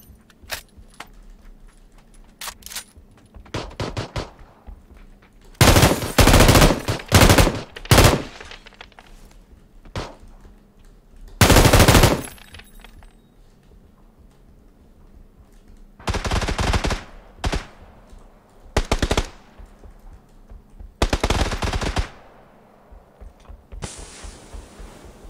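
An M249 light machine gun firing in PUBG, several loud bursts of automatic fire separated by quieter gaps with small mechanical clicks and handling noises, no talk.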